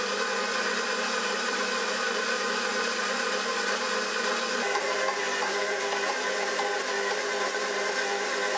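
A stand mixer runs at speed 2, kneading brioche dough with a constant, loud motor whir that shifts slightly in tone about halfway through and stays even throughout, with no voices.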